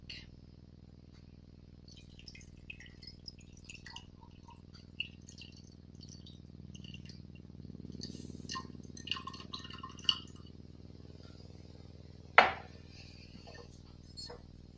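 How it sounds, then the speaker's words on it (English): Brewed iced tea poured over ice in a glass, small trickles and drips building to a soft rush of liquid, with one sharp clink of ice near the end, close and quiet. "We're gonna pour it over the ice so you can see what that looks like."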